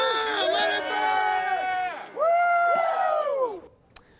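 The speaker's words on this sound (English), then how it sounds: "The group could be heard shouting expletives and calling out Spanos repeatedly." Angry Chargers fans shout outside Chargers Park in a crowd, several voices yelling and chanting loudly in overlapping drawn-out cries, pausing briefly before another surge of shouting.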